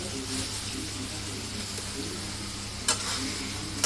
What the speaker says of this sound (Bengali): একটু তেলে মশলার সাথে গড়াই নেব।